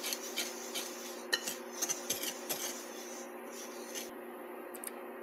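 Sugar and cocoa powder are mixed in a bowl with a utensil, giving quiet scraping and clinking strokes in an irregular rhythm, close and fairly faint, with no talking.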